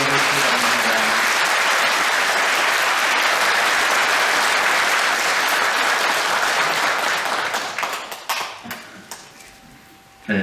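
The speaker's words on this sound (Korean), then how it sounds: "감사의 박수로 쳐주시기 바랍니다" A Catholic church congregation at a confirmation service breaks into loud sustained applause from many hands, dense and steady before thinning out and fading near the end.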